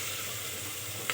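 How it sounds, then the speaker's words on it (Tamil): Ginger garlic paste and masala sizzle and fry in a pan for vegetable biryani, a steady close crackle with no talking and a brief brighter burst near the end. "நல்லா மிக்ஸ் பண்ணி விட்டுக்கோங்க."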